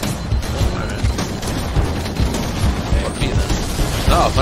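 Explosions and gunfire from combat in the Halo: Combat Evolved video game, a dense, continuous barrage of booms, crashes and impacts layered over one another throughout, with a loud burst near the end.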